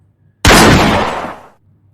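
A single loud hunting gunshot in a forest cracks suddenly and rolls off in a decaying boom lasting about a second, with quiet before and after.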